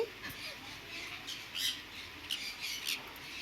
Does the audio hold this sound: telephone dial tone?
no